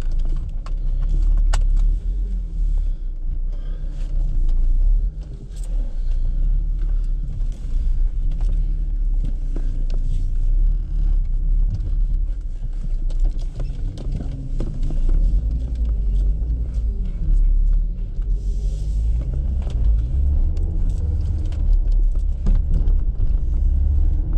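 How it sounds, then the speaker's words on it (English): Inside a 2.4 non-turbo Volvo V70 on a test drive after an M56 manual gearbox replacement, a steady, close engine and road rumble runs throughout, with light rattles and jangling from the cabin and no talking. "we're on the test drive and we'll see how this gearbox does"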